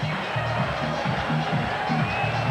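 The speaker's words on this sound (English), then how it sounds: "The crowd here is going ballistic." Stadium crowd roaring continuously at a CFL football game between Edmonton and Montreal, a dense steady wash of cheering with a commentator talking over it.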